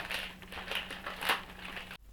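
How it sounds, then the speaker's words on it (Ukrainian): A plastic lavash bag crinkles up close as a tightly rolled lavash roll with chicken and mushrooms is stuffed inside, a few soft crackling bursts before an abrupt stop. "Запихаю в пакет від лаваша."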